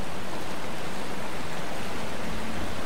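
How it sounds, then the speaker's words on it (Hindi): Rushing waterfall in the Batcave of the Batman Arkham Asylum video game, a steady broadband roar of falling water that continues without a break, with no voices over it. "झरना भी है"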